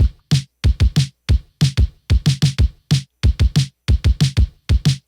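Kick and snare pattern programmed in FL Studio for a new wave post-punk beat, punchy low thumps interlocking with bright snare cracks in a steady, driving loop, loud and close.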